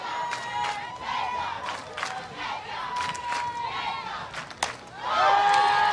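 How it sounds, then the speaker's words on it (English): Stadium crowd at a college softball game between Florida State and Arizona roars and cheers continuously, with sharp shouts and whistles rising and swelling louder toward the end. "to play in a crowd, in front of a crowd like this"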